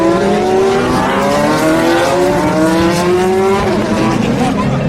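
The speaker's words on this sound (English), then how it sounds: "the sound of the 911s and the Ferraris revving up as they go through the Dunlop Bridge" Porsche 911 and Ferrari race cars rev hard through the Dunlop Bridge at Le Mans, a loud, continuous engine roar with shifting pitch.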